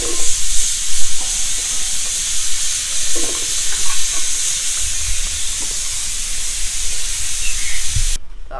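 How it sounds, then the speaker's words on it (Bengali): Potato French fries being half-fried in oil give a steady, close hiss of bubbling fat, with a few light clinks and bumps over the constant sizzle. "তো আলুটাকে এরকম হাফ ভাজা করে নিতে হবে"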